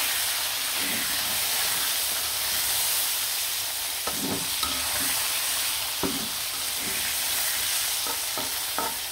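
Baim fish, a river eel, fry in hot oil with a steady loud hiss and sputter, punctuated by several clinks and scrapes of a utensil against the pan.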